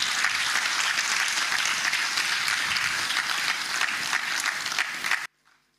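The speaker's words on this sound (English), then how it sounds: "Another round of applause, please." A large crowd applauds steadily and loudly after a speech on electoral reform and democracy, the clapping sustained throughout before cutting off abruptly near the end.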